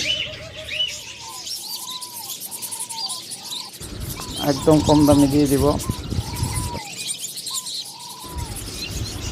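Caged doves and lovebirds give repeated short chirping and cooing calls at a bird sale, with someone talking loudly over them in the middle of the stretch.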